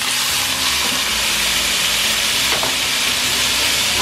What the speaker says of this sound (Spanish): Ahora vamos con el pollo. Ponemos el pollo.